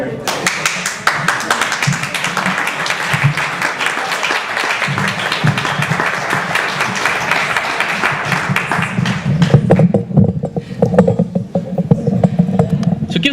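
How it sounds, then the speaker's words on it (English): Applause from an audience at a literary anthology reading, loud and close, with brisk clapping for about nine seconds before it gives way to a voice speaking over a few lingering claps. "So give Star one more round of applause"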